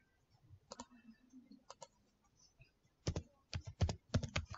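Typing on a computer keyboard at a Windows command prompt, with a few isolated keystrokes first and then a denser burst of rapid clicking, close and fairly quiet with no voices.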